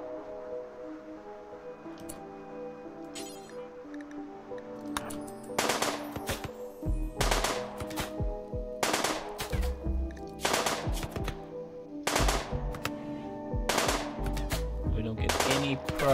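Gunfire in the video game RimWorld rings out in repeated sharp bursts from about six seconds onward, loud and close, layered over a steady game background hum.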